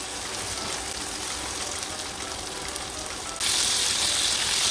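Cubes of paneer fry in a pan, giving a steady, close hiss of sizzling oil that grows louder and brighter near the end.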